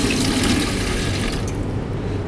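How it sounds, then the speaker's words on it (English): Water poured from a container into the base of a portable autoclave for a microbiology procedure, a steady, continuous splashing pour lasting a couple of seconds, close and fairly loud with no talking. "tip some water in there like that"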